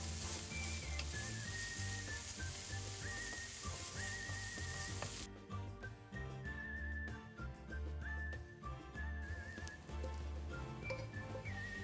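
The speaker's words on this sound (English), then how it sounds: "To the first pan, add 1 tablespoon ghee and saute the ginger garlic paste for 1 or 2 minutes until slightly golden." Ginger garlic paste sautéing in ghee in a pan for homemade chicken biryani gives a steady, close sizzle that runs throughout, with background music playing over it and no speech.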